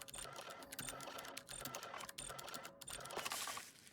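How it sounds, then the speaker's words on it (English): In the flight game Deadstick, a weather report prints out with a rapid, clattering mechanical buzz like an old dot matrix printer, bursts of chattering strikes in quick repeated lines, faint and close. "Sounds like an old dot matrix printer."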